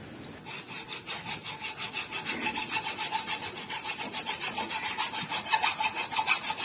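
A hacksaw cuts the binding off a transformer being salvaged for a DIY spot welder, quick rhythmic back-and-forth strokes, loud and close, repeating evenly for several seconds without speech.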